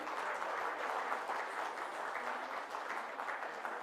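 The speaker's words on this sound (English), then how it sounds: "A loud applause again for all the dancers." Audience at an international watershed conference applauding dancers, a dense, steady wash of many hands clapping for a few seconds, fairly faint and distant.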